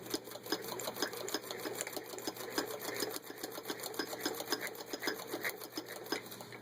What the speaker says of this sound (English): And the machine does reverse stitching too.